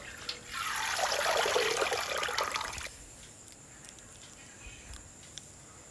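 Wash water pours off rinsed grapes through a strainer in a village kitchen, a steady splashing trickle that swells in and runs for about two seconds before fading to a faint drip.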